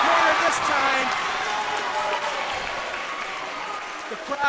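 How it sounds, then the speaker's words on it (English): A crowd cheers loudly at a high school volleyball championship match, a steady roar that slowly fades over a few seconds beneath a voice talking. "The crowd going wild."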